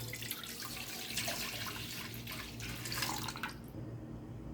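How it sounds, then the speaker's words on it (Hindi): One litre of milk poured into a cooking pan, a steady liquid pouring and splashing for about three and a half seconds before it stops, close and fairly quiet, with no talking. "एक पैन लेकर उसमें हम 1 लीटर दूध डालेंगे।"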